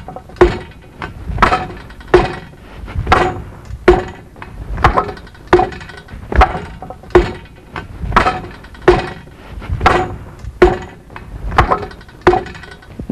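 Kicks and knee strikes land on a Wing Chun wooden dummy in a steady repeating rhythm, about a dozen sharp, close wooden thuds, each with lighter footfalls between, heard alone without talk.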